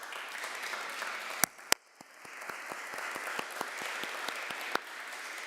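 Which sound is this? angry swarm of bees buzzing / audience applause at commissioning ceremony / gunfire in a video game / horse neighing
audience applause at commissioning ceremony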